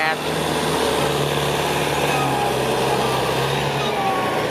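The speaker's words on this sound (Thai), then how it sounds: "มาดูรถไถครับตัวใหญ่เลย" A Kubota M108S tractor engine runs steadily at a constant, loud drone close by, while a voice talks over it.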